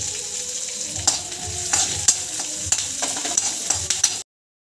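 Onions and curry leaves with cumin seeds fry in oil for oats upma, giving a steady close crackling sizzle with a few sharp utensil taps, before cutting off into silence.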